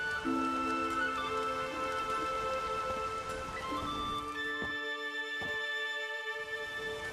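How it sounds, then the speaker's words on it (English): Steady rain from The Witcher 3: Wild Hunt patters evenly throughout, with sustained musical tones layered on top and a couple of soft thumps near the end. "There's no point standing here in the rain."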